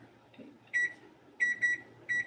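A kitchen timer sends out four short, bright electronic beeps in an uneven pattern, two of them close together, over faint room hum with no talking.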